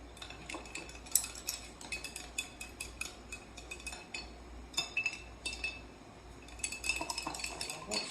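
A spoon stirs iodine-tinted water in glass jars, giving a run of light, quick clinks and scrapes against the glass at close range, with no talking.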